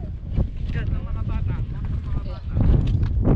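Wind buffets the microphone in low, rumbling gusts while climbing at a crater near Taif, Saudi Arabia, growing stronger near the end, while a voice talks faintly underneath.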